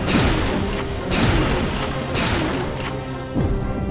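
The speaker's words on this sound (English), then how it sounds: "I'm going to use the shotgun on him, the Western Custom" The Western Custom shotgun fires in Resident Evil 3, with several loud booming blasts spaced about a second apart and rattling game sounds between them.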